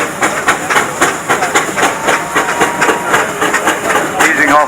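Steam traction engines haul a heavy load at the Dorset Steam Fair, a rhythmic chuffing exhaust beating steadily and loudly alongside hissing steam, with a voice speaking underneath.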